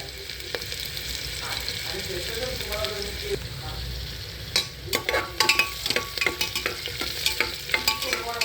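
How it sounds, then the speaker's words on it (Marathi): Onion sizzling in hot oil in a pan while being stirred and sautéed for a mutton dish: a constant frying hiss, then a run of sharp scraping and clacking strokes from the spoon during the second half. "ह्याचा कांदा परतून घ्यायचा तेलामध्ये"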